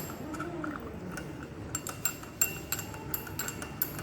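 Tannin extract stirred with hot distilled water in laboratory glassware, giving a run of light glassy clinks and ticks that grow more frequent toward the end, close and fairly quiet over a soft background hiss.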